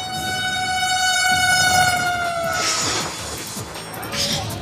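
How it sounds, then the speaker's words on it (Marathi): A Vande Bharat semi-high-speed train runs a trial at speed, a loud steady rumble with a long drawn-out horn blast that fades as the train passes. "भारतीय रेल्वेच्या वंदे भारत या सेमी हायस्पीड ट्रेनच्या 3 रेकची यशस्वी चाचणी घेण्यात आली"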